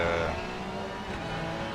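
A Mercedes-AMG race car engine on the Nordschleife gives a loud, continuous roar with a steady, deep engine tone, holding its pitch across the short stretch with no talking.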